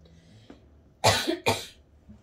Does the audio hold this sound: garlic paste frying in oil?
no